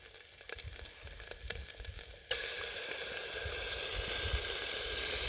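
A dry Indian spice mix with tandoori paste drops into a hot Trangia camping pan outdoors, with a faint rustle first, then a sudden, loud, steady sizzle that holds to the end.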